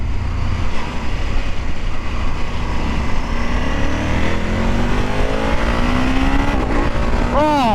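A KTM 1390 Super Adventure S Evo motorcycle accelerates hard, its engine note climbing steadily under loud wind roar before a quick gear change near the end.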